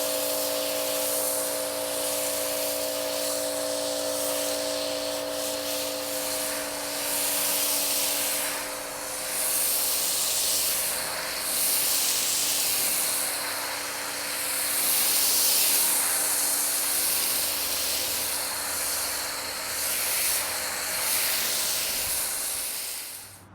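A 2.3 GPM pressure washer sprays steadily over thick foam, rinsing it off in a continuous loud hiss with slight surges, running alone throughout.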